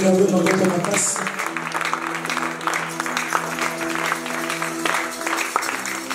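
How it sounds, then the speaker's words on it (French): Church congregation applauding and acclaiming to glorify God at a Camps de Dieu service in Beauvais: steady dense clapping from a crowd, fairly loud and continuous, with voices and sustained tones mixed underneath. "Acclamons pour la gloire de Dieu"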